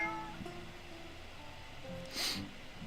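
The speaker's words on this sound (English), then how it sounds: "I gotta take care of the cat." A house cat gives one short meow midway through a quiet room, with a faint hum in the background.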